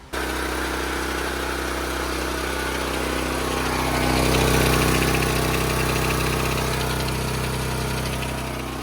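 A Honda GX390 engine driving a high-pressure water pump runs steadily close by, a continuous loud mechanical drone that swells slightly midway, with no talking. The engine is not running at full capability because of a faulty carburetor.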